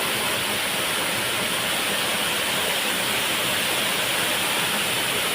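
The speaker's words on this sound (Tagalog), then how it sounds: "Nice waterfall." Inungayan Falls in Jiabong, Samar, pours as a close, loud, continuous rush of water with an even roar and no voices.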